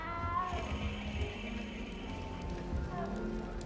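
A cat meows in the Hogwarts Legacy video game, heard over a dense musical and ambient game background with low voices, the meow not clearly separated from the surrounding sound.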